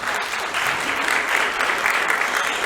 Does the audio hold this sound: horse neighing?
no